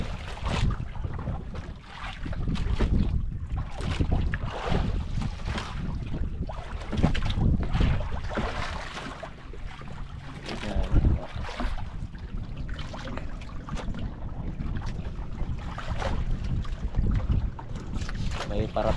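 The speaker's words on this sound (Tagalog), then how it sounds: "May parating idol, may parating pa rin isang bangka." Boat motor droning on open water with wind buffeting the microphone, steady and fairly loud, with voices talking over it throughout.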